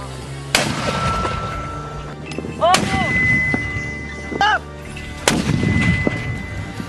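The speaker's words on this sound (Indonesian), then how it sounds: "MO1 merupakan mortir komando yang sangat portable dan dapat dioperasikan oleh satu orang saja" A portable one-man MO1 commando mortar, weighing about 6 kg, fires in sharp booming reports: three or four distinct blasts spaced a couple of seconds apart, each trailing off into open-air echo.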